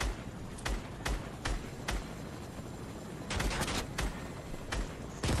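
Video-game gunfire: bursts of rapid shots, some single cracks and a dense volley near the middle, fairly loud over a busy background.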